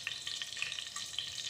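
Whole spices such as cardamom, cloves, cinnamon and bay leaf fry in hot oil, giving a brief, faint, crackling sizzle with small irregular pops.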